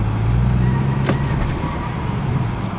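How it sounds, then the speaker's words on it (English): Engine of a Chevy truck rumbles steadily up close as the truck is moved, a continuous low drone with little change. "Let's move this truck out of the way."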